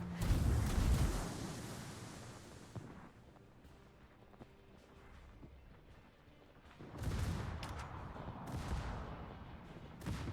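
Secondary guns on the German battleship Ruprecht fire in World of Warships, a heavy rumbling volley up close at the start, a quieter stretch, then another burst of booming shots near the end, with no talk.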